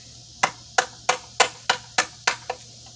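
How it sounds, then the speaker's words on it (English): A Cold Steel knife with a 25-degree edge chops through material in eight sharp, evenly spaced strikes, each a crisp close impact with a quick decay. "Pretty good chopping."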